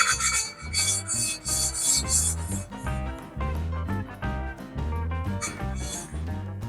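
A cylinder head valve from a Citroen Saxo VTS Turbo top-end rebuild being lapped with paste, a rhythmic close-up gritty rubbing as the tool twists back and forth in quick repeated strokes, with no talk.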